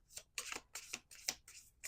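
A small deck of playing cards being shuffled: quick, crisp riffling bursts repeat about five times in a steady rhythm, close by and fairly quiet, with no speech.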